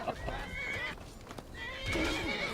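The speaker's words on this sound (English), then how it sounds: "Get away from my horsey." In the video game Skyrim, a horse gives a couple of high, wavering whinnies with hoof clip-clops mixed in, near and moderately loud, with no talking.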